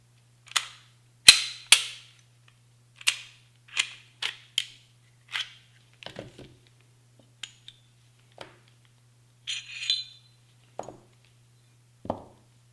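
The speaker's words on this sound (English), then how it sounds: "let's go ahead and field strip the firearm and we'll get started." Glock pistol being field stripped, a series of sharp metallic clicks and snaps from slide and parts, spaced irregularly and close, with a few softer clunks in between.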